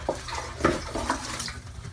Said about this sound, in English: we're just going to sort of jam it down into the toilet bowl and squeeze it real hard